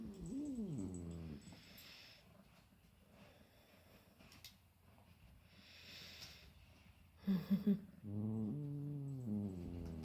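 A domestic cat vocalising up close, a drawn-out complaining meow at the start, then quieter snuffling and breathing, followed by a sharp burst of short calls and another long wavering meow.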